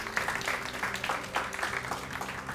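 A crowd claps steadily for a few seconds, a dense patter of applause at moderate distance with no talking.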